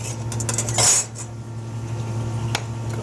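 A utensil clinks and scrapes against a pot as butter is cut into cooked potatoes, with a short rattling burst and a later sharp tap over a steady low kitchen hum, no voices.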